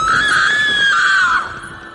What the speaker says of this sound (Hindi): सीमा की चीख निकली।